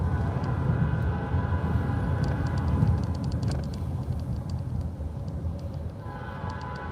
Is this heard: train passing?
yes